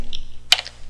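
A single command tapped out on a computer keyboard in a terminal, a quick burst of close, crisp key clicks in an otherwise quiet room.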